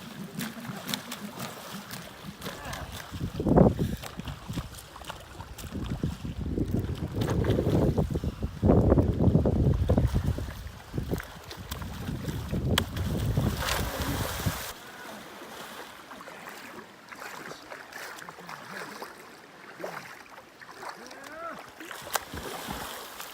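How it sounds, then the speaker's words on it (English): Gusty wind buffets a boat on open water, roaring loudly in the first fifteen seconds with rumbling microphone buffeting, then easing to a steadier, quieter rush; a voice speaks briefly. "There goes that wind again."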